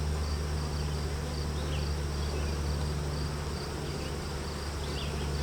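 Honeybees, workers and nurses, keep up a steady close hum on a hive frame, an even, unbroken drone with only faint fluctuations throughout.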